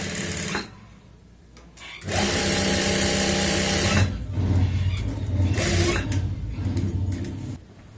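A sewing machine stitches a pocket onto fabric, its loud, steady mechanical whir running in long bursts separated by short pauses.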